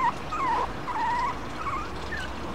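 A small male dog whimpers and yips in thin, rising and falling whines, several short cries in quick succession heard close against a quiet background.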